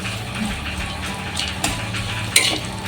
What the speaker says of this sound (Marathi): मी तर एकदमच सगळं टाकलं, मस्त भाजून निघतील याच्यामध्ये.